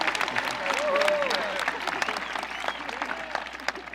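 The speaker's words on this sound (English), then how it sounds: "Of course they applaud for that." Applause from a high school graduation audience in Enfield, Connecticut, a dense crowd of clapping with voices and a cheer mixed in, steady throughout.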